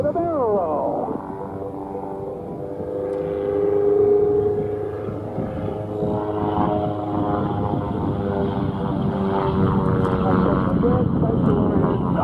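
Aerobatic propeller airplane flying a barrel roll at the Sun 'n Fun 2024 airshow, a loud sustained engine drone rising and falling in pitch as it manoeuvres, with a commentator talking over it.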